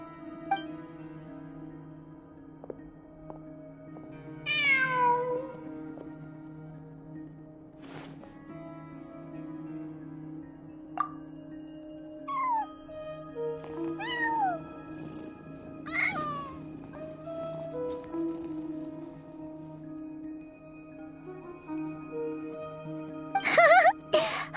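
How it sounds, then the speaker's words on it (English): A cartoon cat in the Genshin Impact video game meows several times, short rising mews scattered over a quiet game background with a soft musical drone. "Who's a good kitty? Come on, shake."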